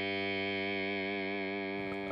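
A sustained guitar chord processed with gated reverb rings with a thick, distorted, effect-laden tone, steady and loud before cutting off abruptly.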